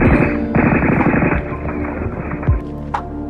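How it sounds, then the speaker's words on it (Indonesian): Soldiers fire from a dark forest, a loud, dense barrage of rapid automatic gunfire and overlapping shots that rolls on without pause, with a sharp single crack near the end. "dari gelapnya hutan Belanda menembaki mereka dan kontak senjata pun terjadi"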